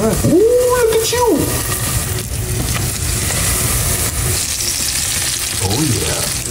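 A battered cinnamon apple ring, coated in flour, egg, cinnamon, baking powder and sugar, fries loudly in a pan with a constant close sizzle, while a person talks over it briefly.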